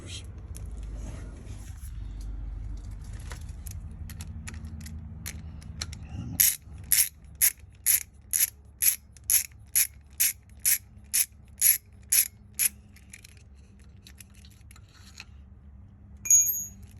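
A ratchet works screws loose on a 1986 Honda TRX 250 Fourtrax electric-start ATV, giving a steady series of about fifteen sharp, evenly spaced metallic clicks after a stretch of low mechanical rumble, close and fairly loud.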